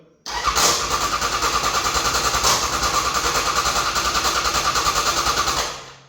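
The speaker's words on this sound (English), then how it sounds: "We're certainly cranking it over." A custom AJS chopper motorcycle engine cranks over without catching, a loud, rapid rhythmic churning that runs steadily for about five seconds before stopping, with no voices.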